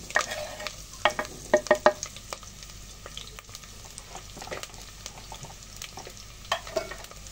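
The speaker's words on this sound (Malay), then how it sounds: "kita nak tumiskan bahan-bahan ni semua" Ginger, garlic, shallots and curry leaves sauté in a pan with a steady close sizzle, broken by clustered clinks and scrapes of a utensil stirring, then quieter frying.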